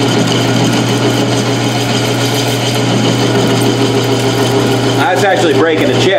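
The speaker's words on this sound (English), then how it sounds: "Bogging the lathe down something fierce though, because it's a negative rake insert." Metal lathe with a negative rake insert bogging down as it cuts and breaks chips, a loud, steady grinding drone with a tonal hum, shifting near the end, with speech over it.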